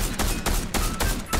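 Rapid gunshots ring out in the Fortnite video game's Halloween update, coming as several sharp bursts in quick succession, loud and close.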